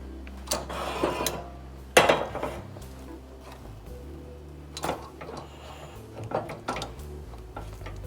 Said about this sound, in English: We'll give it a good stir here.